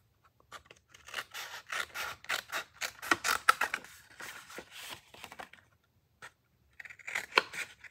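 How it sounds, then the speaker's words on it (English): Craft snips cut open a glued paper seam on a card-making panel, producing a run of short, close, crisp snipping and tearing crunches in irregular bursts with brief pauses between. "I'm just going to cut it open with my snips"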